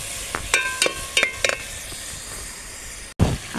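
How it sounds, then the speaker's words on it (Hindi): Ginger garlic paste being stirred in a hot frying pan while making chana dal, with a steady sizzle and a few scraping strokes of a spoon against the pan, close by and without any talk. "अब हम इसको करते हैं मिक्स।"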